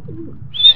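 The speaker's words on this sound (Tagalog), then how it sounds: "Second bird mga kalapatids, si Ato." A racing pigeon just back home from a race gives a short, soft, low coo close by, followed by a brief higher chirp at the end.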